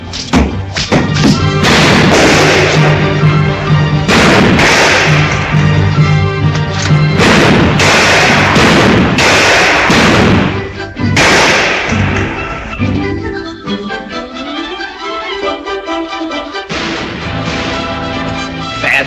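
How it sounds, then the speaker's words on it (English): Rapid, loud gunfire in a 1948 Western comedy scene, many sharp shots and thuds in quick bursts over a dense, boisterous soundtrack, continuing throughout. "He's doing some mighty fancy shooting."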